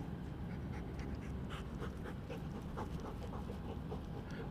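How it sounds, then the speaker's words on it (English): A dog sniffs and pants right at the microphone during an outdoor live stream at Kelowna airport, making quick, breathy, close-up huffs over a steady rumbling background. "that's a doggy sniffing the microphone"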